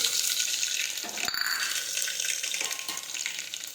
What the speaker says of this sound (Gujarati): હવે આપણે તેમાં રાઈ અને જીરું નાખી દઈશું.